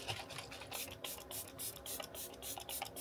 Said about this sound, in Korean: 투쿨 포스쿨 아트클래스 피니쉬 세팅 픽서.